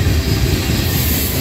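A Norfolk Southern freight train led by a C6M locomotive rolls past close by, a loud, dense rumble of wheels and railcars with rough low-end roar and hiss, steady throughout.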